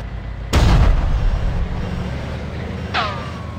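A single heavy tank cannon shot in the Armada Tanks game booms loudly and close, then rumbles away, followed by a fainter whistling sweep near the end.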